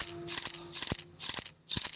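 A shotgun is reloaded in the mobile shooter BGMI, four evenly spaced metallic clacks and rattles as shells slide in one after another, close and crisp.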